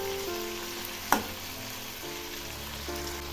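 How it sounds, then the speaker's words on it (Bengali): Pumpkin and cauliflower pieces frying in a pan, a steady close sizzle broken by a single sharp stirring scrape, the crackle continuing evenly afterward. "সবজিগুলো আবার একটু নেড়ে দিচ্ছি। এগুলি আর একটু সময় ধরে ভাজবো।"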